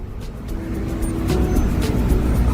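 A Ferrari California drives by on a street near the ocean in South Africa, its engine a steady low rumble that swells gradually louder over a couple of seconds.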